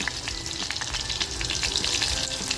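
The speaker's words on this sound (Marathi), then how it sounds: "मातीची हंडी मी छान अशी तापून घेतले तेल टाकते तेल बघा छान तापले लसूण टाकते" Garlic hits hot oil in a heated clay pot and fries with a dense, continuous crackling sizzle, close and steady, with no voices.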